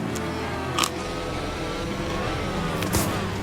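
A race car in a Formula racing game, set at the Monaco Grand Prix, enters the pits with a steady engine drone and brief whooshing swells as it passes.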